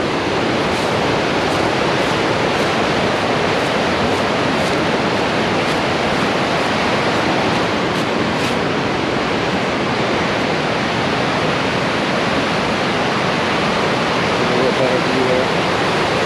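River rapids on the Nantahala Cascades at about 250 CFS, a continuous loud roar of rushing whitewater filling the whole scene with no letup.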